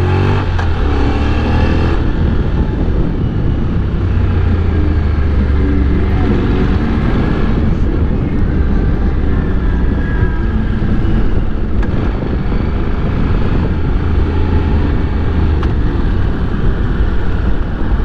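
Honda NC750X motorcycle engine droning steadily while ridden in second gear at a test-ride event, loud and continuous with wind buffeting, and a rider's voice speaking over it.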